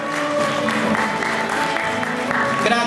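A public audience applauds at the close of a solemn civic ceremony, a continuous dense clapping with some tonal background sound underneath.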